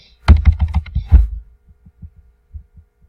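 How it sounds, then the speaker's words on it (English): Fingers tap number keys on a computer keyboard while entering values into the Desmos graphing tool, a quick burst of close, dense clicks followed by a few sparse, softer taps. "We're going to type these numbers into Desmos."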